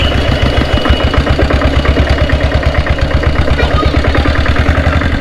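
A 7.5 HP Diesel Bullet motorcycle idles up close, its loud engine thudding in an even, steady rhythm.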